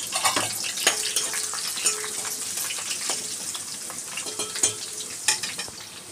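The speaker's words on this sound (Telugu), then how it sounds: "ఇలా వేగుతున్నాయి కదా." Dried red chilies frying in hot oil for a Telugu thota kura (amaranth leaves) fry, giving a steady close crackling sizzle with scattered sharp pops and stirring clinks, and no talk.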